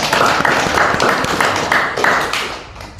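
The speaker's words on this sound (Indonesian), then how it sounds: "Tepuk tangan juga." Classroom of students clapping together in short rhythmic bursts during a lesson, several quick hand claps repeating close and loud, then fading at the end.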